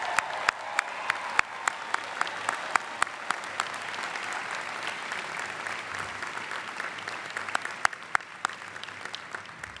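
An audience at a 2019 MBA commencement applauds award winners with steady, sustained clapping across a large hall, a few sharp individual claps standing out above the wash of sound.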